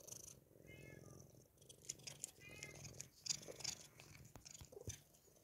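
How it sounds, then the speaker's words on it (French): A kitten curled on a lap purrs softly and continuously, close but quiet, with small rustles and light mouth sounds now and then. "J'ai petit chat sur les genoux qui ronronne."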